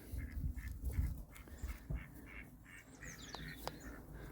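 Nesting geese on a market garden give a series of short nasal honks and calls at moderate distance, irregular and fairly faint over low background rumble.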